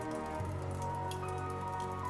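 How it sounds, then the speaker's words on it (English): Rain pouring outside, a steady dense patter on surfaces, soft and continuous with no voices. "As the rain continued to pour outside and the thunder roared, John finally acknowledged the truth."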